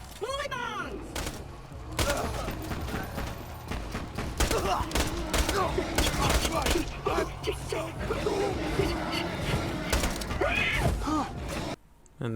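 Weapon fire in the video game Borderlands, dense bursts of rapid shots and mechanical clatter layered with game effects, continuing loudly for several seconds with brief lulls and a short drop near the end.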